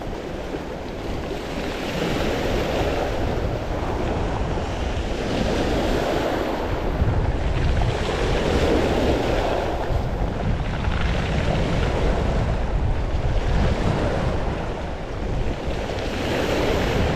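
Waves surge and break steadily onto a beach strewn with boulders, a continuous loud wash of surf with swelling rhythm, roughened by wind buffeting the microphone throughout.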